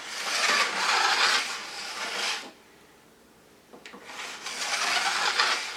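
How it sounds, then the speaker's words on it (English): A metal file is drawn along the steel edges of a snowboard, giving two long, even rasping strokes up close with a quiet pause between them. "When you're sharpening your edges, your edge sharpener should have a direction in which you should move the file."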